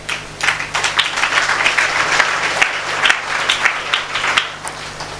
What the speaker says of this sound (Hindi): आपने प्रभु की महिमा के लिए तालियां बजाई, अच्छी बात है